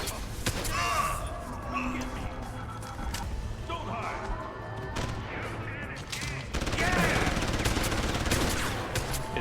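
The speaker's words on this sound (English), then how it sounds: "Oh, it's a heavy machine gun." Heavy machine gun fire in the video game Deus Ex: Human Revolution, rapid bursts of shots over continuous game noise, with a louder stretch of fire toward the end and someone talking over it.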